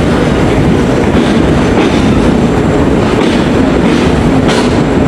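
Bonolota Express, a non-stop passenger train, rolling into the Rajshahi station platform, with a loud, continuous rumble and steady clatter of wheels on rails filling the whole stretch.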